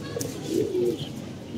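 Pigeons cooing in a home loft, a soft low throaty coo rising and swelling mid-clip over faint background noise, with a brief higher chirp near the start.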